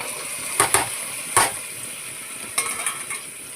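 Cluster bean curry frying in a pan, a soft steady sizzle with a few clinks and scrapes of a utensil stirring against the pan, close and fairly quiet.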